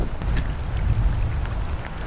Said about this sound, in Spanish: Ya sé, bajo la lluvia.